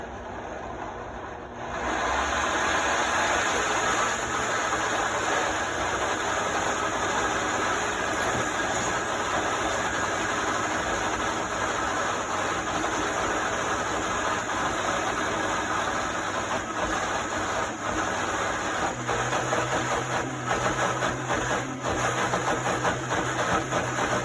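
A blender running at high speed while blending cashew cheese, a loud steady motor whine and churn that starts abruptly and runs without pause, straining slightly, with no talk.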